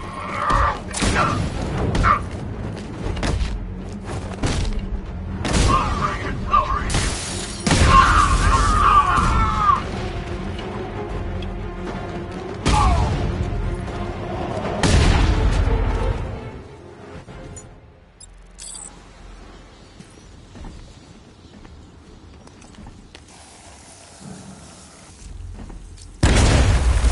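A tank and a tower blown up in a video game bring a string of heavy booms and crashes, loud and close, spaced irregularly over a rumbling backdrop with voices speaking in between.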